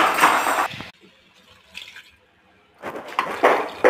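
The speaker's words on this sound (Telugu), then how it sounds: "ఇప్పుడు 3 గ్లాసెస్ వాటర్ పోసుకోవాలి" Water poured into basmati rice in a pressure cooker: a loud splashing pour at the start, a quiet pause with faint trickles, then a second strong pour toward the end.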